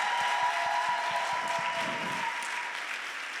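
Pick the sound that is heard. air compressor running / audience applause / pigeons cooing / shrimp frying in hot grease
audience applause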